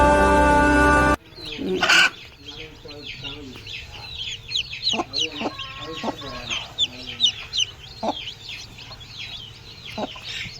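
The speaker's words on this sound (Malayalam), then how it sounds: "നല്ല ക്വാളിറ്റിയുള്ള കോഴിക്കുട്ടികളാണ്" Chickens cluck and chirp in scattered bursts, with small black-and-white native chicks peeping throughout, over a low steady hum.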